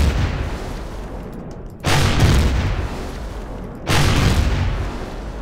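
Heavy gunfire in the sci-fi video game Empyrion, shooting at a door: two loud booming blasts about two seconds apart, each with a long rumbling decay over a constant low drone.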